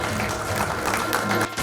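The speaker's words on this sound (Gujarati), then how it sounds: "ભાઈ જોરદાર તાળીઓના ગડગડાટથી આપણે સ્વાગત કરીએ" An audience claps to welcome a chief guest onto the stage at a community show, a brief dense burst of applause at moderate level.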